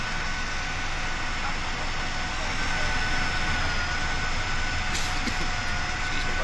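An IXEG 737-300 airliner's jet engines roar steadily at takeoff thrust in the X-Plane 11 flight simulator, a loud, continuous drone that holds for several seconds.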